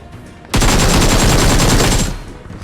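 Loud burst of rapid automatic gunfire in the BGMI battle-royale video game, a dense continuous volley lasting about a second and a half before cutting off, with no voices.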